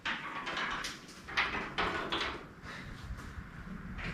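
Dried dirt dauber nests crumble and rattle inside an old Chevelle as the car is slowly tilted forward, a faint, scattered patter of falling debris with a few louder clumps dropping.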